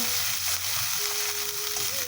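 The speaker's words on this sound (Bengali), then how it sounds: "এবার মা মশলাগুলোকে কষিয়ে নিই।" Ground cumin, coriander and mustard paste frying in oil for a prawn curry with potato and pointed gourd, a steady, close sizzle with faint stirring.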